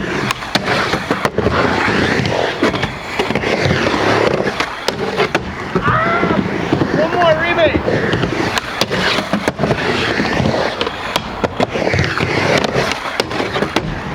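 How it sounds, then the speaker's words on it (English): A fingerboard rolls and grinds across a homemade obstacle in a 50-50 pop-in to backsmith trick, with continuous close wheel rumble and scraping and a few sharp clicks, while people talk quietly underneath. "now we'll do a 50-50 pop in, backsmith"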